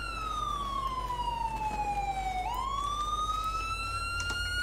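A police car siren in GTA V wails steadily, its tone sliding down then back up in a slow sweep, loud and close over a low engine rumble, with no talking.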